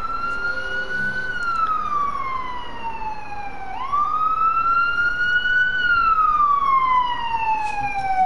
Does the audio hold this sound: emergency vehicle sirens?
yes